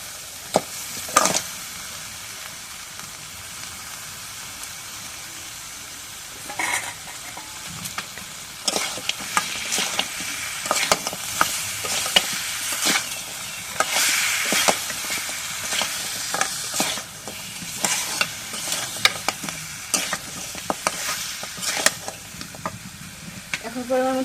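Spice masala stir-fried in a pan while cooking beef tripe with potatoes, a steady sizzle and frying hiss with repeated scraping stir strokes throughout, fairly close and loud, with no talking.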